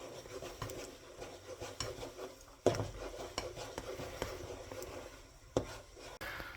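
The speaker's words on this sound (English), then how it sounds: "We're just gonna stir this up vigorously to incorporate all these spices and vinegar and Worcestershire sauce" Spoon scraping and tapping in a pan as spices, vinegar and Worcestershire sauce are stirred vigorously for a buffalo-style wing sauce, with two sharper knocks against the pan over a soft, steady rubbing texture.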